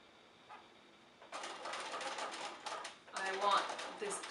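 A sewing machine runs basting stitches near the edge of a towel apron in two bursts of rapid mechanical whirring, close up and fairly loud, with a soft voice underneath.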